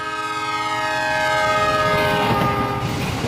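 A loud train whistle blares steadily with harmonic tones, its pitch sliding downward as the train rushes past, rumbling underneath.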